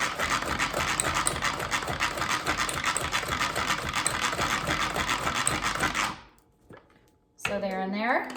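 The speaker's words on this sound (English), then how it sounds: "the manual food processor, and just mix up some blueberries" Manual food processor chopping blueberries, a rapid, steady mechanical whirring clatter lasting about six seconds before stopping, followed by a brief pause and a voice.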